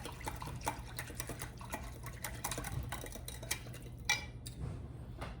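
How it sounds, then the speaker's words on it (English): Ingredients for chicken noodle soup are whisked in a bowl, with quick, irregular metallic clinks and scrapes of the whisk against the sides over soft liquid stirring, close but fairly quiet, with no talking. "we're gonna whisk that around"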